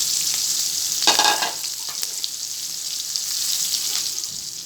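Chopped onion, chopped garlic and ginger paste fry in hot oil with a constant close sizzle that flares into a louder crackling burst near the start, then settles into a steady hiss.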